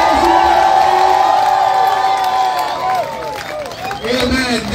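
An Akurinu church congregation in Githurai, Kenya, cheers and ululates loudly together, with wavering high trills riding over a dense crowd roar that dips briefly and swells again.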